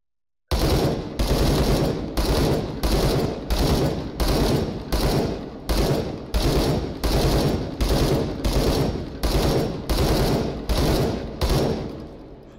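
A SCAR rifle fires fully automatic from a round drum magazine in about a dozen rapid bursts, each a loud, evenly spaced sustained volley with brief gaps between. No one speaks.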